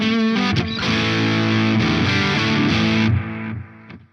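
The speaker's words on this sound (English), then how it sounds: "Throw some delay on there." Overdriven electric guitar played through an Oneder Effects Old Blue overdrive pedal with delay added, loud sustained chords ringing with echoing repeats, then trailing off quieter at the end.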